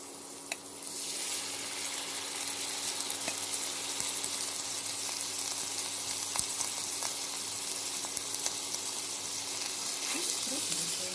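Chopped garlic fries in a pan, making a continuous broadband sizzle that starts abruptly and holds steady, with faint scattered clicks under it.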